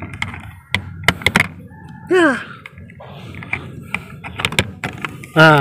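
A pull-open compartment leading through to the trunk of a 1990 Mitsubishi Eterna 2.0 manual opens with thunks, clicks and a short creak, close by, while someone talks throughout.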